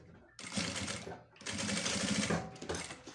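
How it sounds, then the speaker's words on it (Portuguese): A sewing machine stitching TNT non-woven fabric, two rapid bursts of mechanical whirring and needle chatter, the second longer, separated by a short pause, close and clear with no talk. "você vem aqui, ó, e costura só um pedacinho desse TNT"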